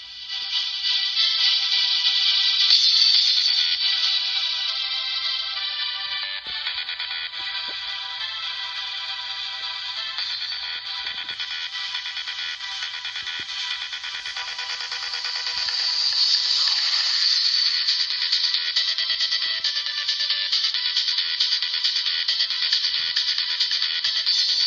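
The electronic dance track plays through a small, tinny speaker, a steady, continuous synth melody with a thin phone-like tone, holding at a fairly even level for about twenty-five seconds with no voices.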